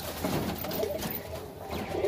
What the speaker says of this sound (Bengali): একে কিং পায়রা বলে